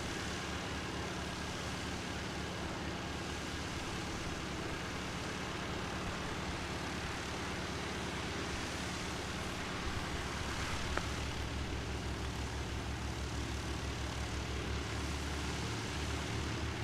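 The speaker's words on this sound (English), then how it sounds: "An A350" An Airbus A350 airliner, the manufacturer's 10,000th Airbus, passes at Christchurch Airport in New Zealand, heard as a steady, broad jet roar that holds for the whole stretch and deepens in the low end near the close.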